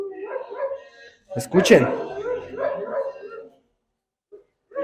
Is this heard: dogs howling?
yes